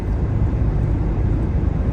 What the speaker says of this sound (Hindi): बल्कि जहाज़ नहीं बल्कि हेलीकॉप्टर है